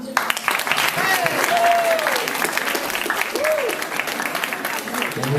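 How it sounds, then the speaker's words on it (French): An audience claps warmly after a slam poetry performance, the steady applause carrying on throughout with a few whistles and voices rising above it. "on peut encore rester applaudir."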